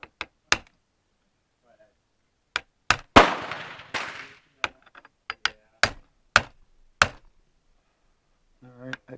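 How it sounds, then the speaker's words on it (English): Sharp metallic taps of an aluminum piece against the rear sight dovetail on an older Spanish Destroyer carbine, sounding as a dozen or so separate knocks in small clusters with a brief scraping burst in between; a voice is heard briefly at the end. "there's a little dovetail here, and you just tap left or right to adjust your windage"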